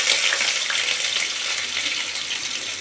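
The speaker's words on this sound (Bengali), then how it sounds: "এবার আলুগুলো ভেজে নেব।" Potatoes fry in hot oil in a kadai, giving a loud, continuous crackling sizzle close up that stays even throughout, with no talking.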